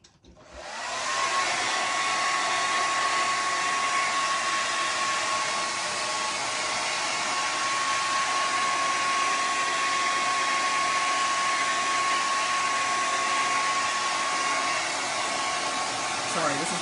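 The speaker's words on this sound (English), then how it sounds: "I'm going to blow dry this so that I can move on to the next step." A blow dryer drying paint runs as a loud, steady whir for the whole stretch, switching on in the first second and holding a constant hum with no talk.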